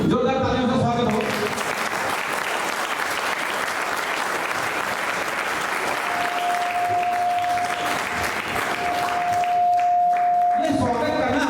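An audience at a public Shri Krishna Janmashtami celebration in Vapi gives loud, sustained applause to welcome guests, including a minister. The dense clapping runs without a break, and brief voices are heard at its start and end.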